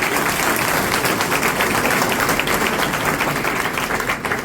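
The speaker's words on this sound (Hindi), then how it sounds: "अपने लिए ताली बजाइए।" Applause from a crowd at a political youth rally, dense and loud clapping that fills the whole stretch evenly before easing slightly at the end.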